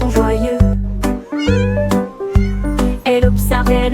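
Kittens meowing loudly and close, a series of about five drawn-out, tonal meows one after another with short gaps between them.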